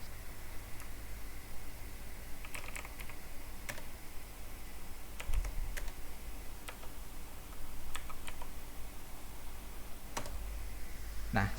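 Scattered keystrokes on a computer keyboard, arriving in small clusters with pauses between them over a steady low hiss, quiet and close by.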